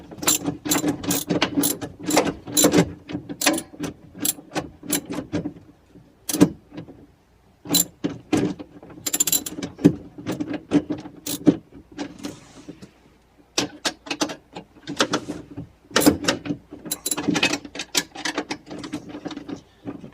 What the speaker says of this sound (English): So I'm just going to go ahead and tighten these, all 8 of these up.